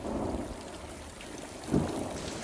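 Rain pours down outdoors in a forest setting, a broad steady rush with a low rumbling undertone and a brief louder swell partway through, no voices present.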